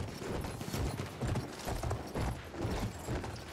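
Galloping horse hooves in the online shooter Battlefield, a steady rapid clip-clop running through the whole stretch at moderate, even loudness, with no talk over it.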